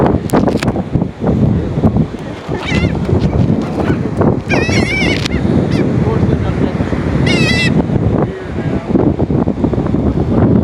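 Seagulls being fed on a beach at Bolivar Peninsula, Galveston, Texas give several sharp, wavering cries in short bursts, close and loud over heavy wind buffeting the microphone and a busy, scuffling background.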